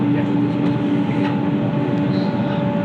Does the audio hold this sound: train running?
yes